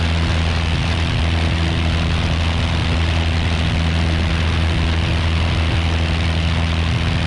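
A Piper Archer propeller plane with a new engine drones loud and steady in flight right after takeoff over Hartford, its engine and propeller roar filling the cabin without a break.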